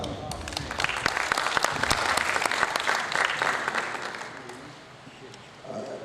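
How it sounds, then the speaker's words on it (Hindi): Applause fills a Hindi/Urdu poetry gathering, a dense steady clapping crowd that thins toward the end before a short swell returns, with some voices mixed in. "आपके लिए मैं तालियां बजाता हूँ"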